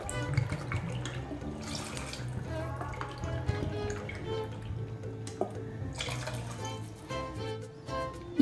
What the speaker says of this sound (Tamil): மீதி உள்ள 2 கப் தண்ணி இப்போ சேர்த்துறோம்.